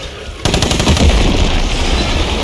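Loud, rapid automatic gunfire in a video game as a magazine is emptied, a dense unbroken burst starting abruptly and continuing to the end, close and alone without talk.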